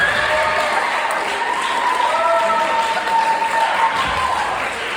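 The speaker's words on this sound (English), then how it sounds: "The students who are Clapping, we thank you so much for the support." Middle school students applaud a speaker at an assembly, steady sustained clapping from a crowd throughout, with faint voices mixed in.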